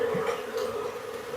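Honeybees buzz around a hive as a beekeeper releases a queen, a steady, fairly close droning hum that holds evenly through the short stretch without talk.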